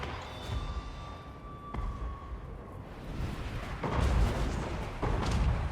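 Cannons pounding in a Total War: Warhammer Mortal Empires battle, with repeated heavy booms and rumbling battlefield noise, louder and denser toward the end.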